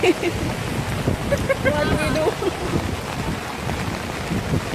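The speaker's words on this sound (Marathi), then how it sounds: "पाऊस पाऊस आला छत्री उघडा" Heavy rain pours down steadily, a dense hiss close by, with voices talking over it.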